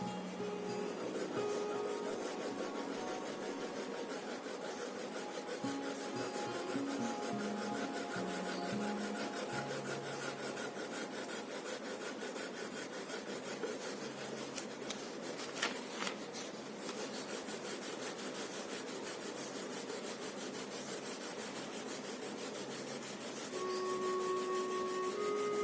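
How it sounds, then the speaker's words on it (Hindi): A pencil moving lightly across paper in a continuous soft rubbing scratch, close up and steady throughout, with occasional faint tonal hums in the background. "जब पेंसिल आपको लाइट चलानी है तो उसे आप 2 फिंगर्स, 1 फिंगर और थंब के द्वारा ही पकड़ेंगे"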